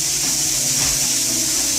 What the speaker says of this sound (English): mix all the ingredients very well and start stir frying